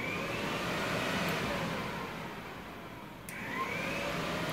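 Triumph Daytona 675 motorcycle cooling fan whirring steadily during an ECU test, a continuous broadband rush with a faint whine that dips slightly and rises again.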